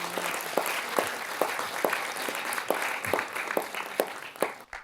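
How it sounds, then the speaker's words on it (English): A crowd claps steadily, with sharp individual claps standing out from the ongoing applause before it tapers off. "Give a warm applause for him."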